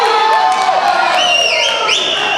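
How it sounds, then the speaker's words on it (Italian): Fans at a powerlifting competition cheer and shout loudly, whoops and high calls rising over a continuous crowd roar. "il tifo si fa sentire"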